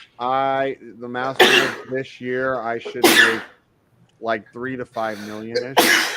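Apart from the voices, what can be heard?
sneeze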